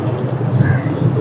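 A pigeon gives a low, soft cooing over a steady background hum, close and continuous for about a second.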